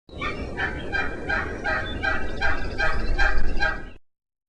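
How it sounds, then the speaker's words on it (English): A fast series of raspy wild turkey yelps, about a dozen evenly spaced notes that grow slightly louder toward the end, heard close and clear. "And also yelp to locate each other."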